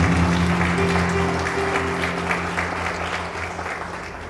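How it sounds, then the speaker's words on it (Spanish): A church congregation applauds in a sustained, steady burst of clapping that fills the room and slowly fades, with a low sustained tone under it and no speech. "Aplauda a Cristo."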